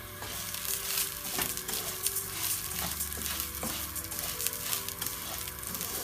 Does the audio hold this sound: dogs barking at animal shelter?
no